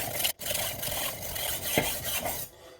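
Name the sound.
knife being sharpened on a stone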